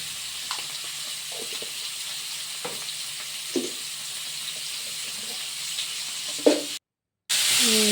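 Potatoes with turmeric and salt frying in a pan, giving a steady soft sizzle with occasional light knocks of stirring close by, then a brief dropout followed by a louder hiss.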